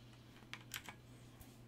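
Quiet keystrokes on a computer keyboard while entering a console command in The Witcher 3, a few soft clicks spaced irregularly over a low steady hum.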